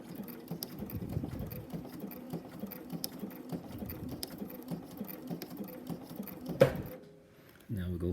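A sewing machine running a reverse stitch on Liros DSL 70kg line for a sewing jig, with soft, quick mechanical stitching pulses close up, a brief clunk near the end, and a person talking over part of it.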